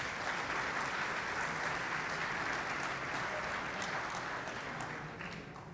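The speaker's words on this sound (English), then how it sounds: "Let's have a round of applause." An audience at an evening museum event claps steadily after a jazz ensemble's performance, a dense, sustained wash of applause that tapers off slightly at the end.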